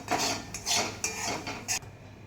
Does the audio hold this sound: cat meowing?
no